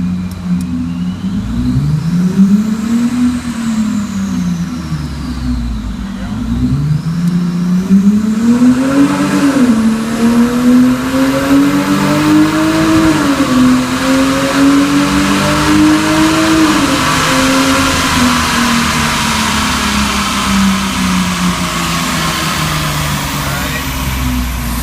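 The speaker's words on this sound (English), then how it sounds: "we're going to do a wide open throttle run in manual mode" A 2001 Lexus IS300 engine runs a wide open throttle pull in manual mode, revving loudly and climbing repeatedly through gears with brief dips between shifts, close and sustained.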